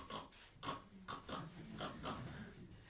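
Repeated snorting grunts and oinks from a pig, close by, coming in quick bursts over about three seconds.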